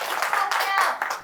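A classroom audience gives a short round of clapping at a science talk, brisk and fairly close, lasting just over a second with a voice mixed in.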